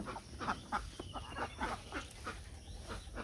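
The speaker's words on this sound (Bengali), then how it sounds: "হাঁস তোমার অনেক ধন্যবাদ তুমি সুন্দর একটা ডিম দিছো" A duck quacking in a village yard, a run of several short, rhythmic quacks nearby at low volume with some faint background noise.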